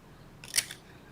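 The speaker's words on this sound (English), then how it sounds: "I'm cutting a little bit off" A single brief snip of scissors cutting a strip off photo album paper, a quick crisp cut sounding close and quiet against near silence.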